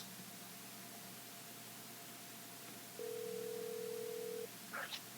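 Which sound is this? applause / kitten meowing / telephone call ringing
telephone call ringing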